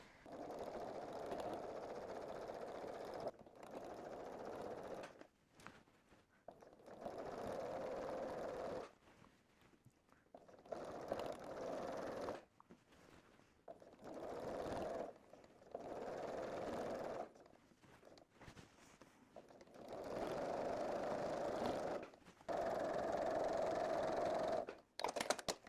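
A sewing machine quilting with variegated purple thread runs in repeated bursts of a few seconds each, a steady whirring stitch separated by short quiet pauses, close but fairly soft.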